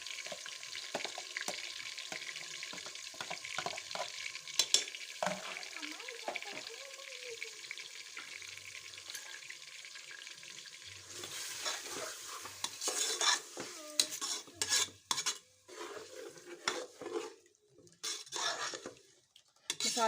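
Chicken for a degi-style shahi chicken korma frying in a pot, with steady sizzling broken by repeated scrapes and clanks of a spoon stirring against the metal, growing busier and louder toward the end.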